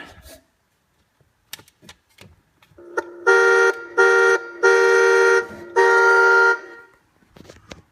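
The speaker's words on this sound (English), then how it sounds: "Horn." A 12 volt electric kids' Ford Ranger ride-on car sounds its horn in four short electronic blasts of varying length, close and loud, after a few faint clicks and handling noises.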